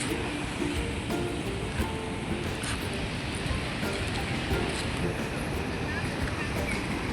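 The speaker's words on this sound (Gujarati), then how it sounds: "મોજા જ ઉડે" Sea waves splash on the shore near Vadkeshwar, a continuous rushing surf mixed with wind buffeting the microphone, close and fairly even in loudness.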